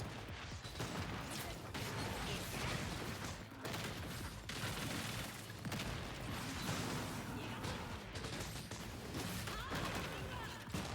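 Dense, continuous volleys of rapid explosive bursts and mechanical clatter from missiles firing in BlazBlue Entropy Effect, loud and unbroken throughout, with someone talking over the barrage.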